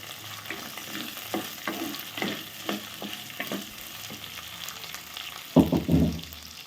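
Quarter kilo of small shallots frying in hot oil for a spicy sardine curry, with repeated stirring scrapes at a steady rhythm under a constant sizzle and a louder clatter near the end.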